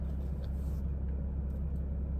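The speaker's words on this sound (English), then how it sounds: "Also, the car sounds really good." Porsche Cayman 981 sports car idling or cruising with a steady low engine rumble, continuous and fairly loud, no voices present.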